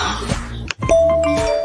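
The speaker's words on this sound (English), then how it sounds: "The doorbell camera protects what matters most." A Vivint doorbell camera chime plays in an advert, a loud, close two-tone ding-dong with a sustained ringing tone after it.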